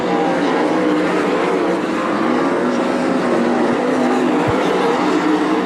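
Sprint cars race on the Attica Raceway Park dirt oval in Ohio, a dense, continuous engine roar that holds steady and loud as the pack circles the track.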